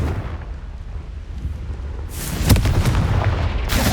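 A booming blast from the Confringo spell in the video game Hogwarts Legacy, a deep rumbling explosion erupting partway through over steady game ambience, followed by another sharp burst at the end.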